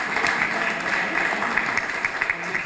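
Applause from a gathering at an elderly care home, a dense, even patter of many hands at moderate distance, with no one talking.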